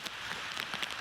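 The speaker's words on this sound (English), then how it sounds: "I'm going to get the tarp up because the rain started to come back in again." Rain patters onto a wild camp beside a loch in Galloway, a close, steady hiss of drops striking surfaces with scattered sharper taps, heard alone.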